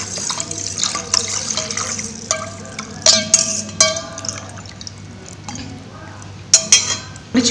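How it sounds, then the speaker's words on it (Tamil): Water is poured and splashed into a container of thick amla juice with pepper and salt, giving intermittent splashing, dripping and sloshing bursts at close range, with a low background hum. "நல்லா தண்ணி ஆட் பண்ணிக்கலாம்."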